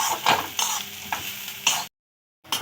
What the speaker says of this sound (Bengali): রসুন আর পেঁয়াজ একসঙ্গে খুব ভালো করে ভেজে নেব।